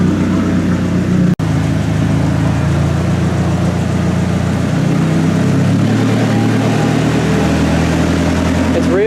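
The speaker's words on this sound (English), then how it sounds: "The exhaust note is definitely improved with that new seal in the wastegate" A turbocharged car engine with open headers and a new wastegate seal idles with a deep, throaty exhaust burble, steady and close, with a voice speaking over it.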